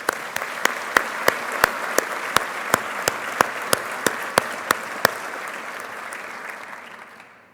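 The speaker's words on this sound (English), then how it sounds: "Let's give them another round of applause." An audience at a pharmacy white coat ceremony gives a round of applause. The steady, fairly distant clapping is punctuated by regular sharp claps and tapers off toward the end.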